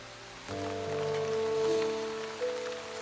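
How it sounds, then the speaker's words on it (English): Heavy rain falls steadily over a white garden in South Africa, a dense constant hiss of drops with a low tonal hum underneath. "it's pelting with rain. Really, really wet."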